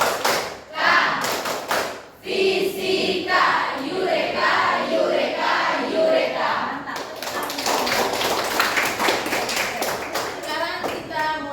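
A classroom of physics students claps together in a chanted rhythmic pattern, with bursts of sharp, unison claps and thumps mixed with their loud group chanting.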